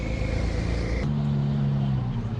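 Porsche 911 (992) engine running nearby on a hot day, a steady rumbling drone that drops to a lower, smoother hum partway through, with no talking.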